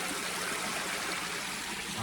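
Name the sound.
shallow river stream flowing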